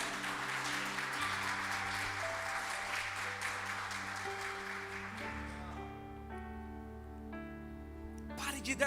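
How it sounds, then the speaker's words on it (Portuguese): A church congregation applauds, a broad patter of clapping that swells over sustained worship keyboard chords and gradually fades as the music carries on. "Dê uma salva de palmas"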